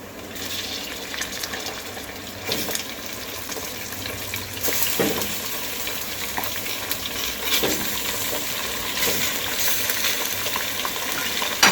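Steady sizzling and crackling of meat frying with onions in a pot, with occasional stirring scrapes, continuous and fairly close.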